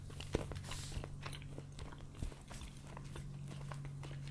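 Someone slowly chewing a grass-flavoured Bertie Bott's jelly bean: faint, soft, wet crunches and mouth clicks repeating over a low steady hum.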